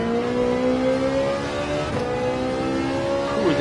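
A Genesis race car's engine revs hard down the downhill turns at Bathurst in Gran Turismo 7, a steady loud drone with rising and falling gear tones, heard alone without talk.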